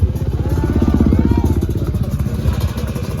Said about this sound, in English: Ryan McCarty cranking that big 450 out for you